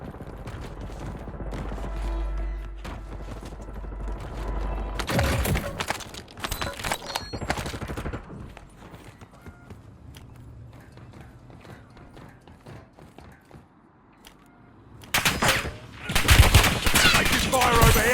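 Gunfire in Call of Duty Warzone 2.0 with the TAQ 56 rifle, loud bursts of rapid shots at the start and again near the end, with quieter game sounds and clatter between.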